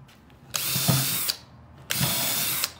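A power drill drives 3-inch GRK construction screws into wood, two loud sustained whirring bursts of under a second each, separated by a short pause, close and without talk.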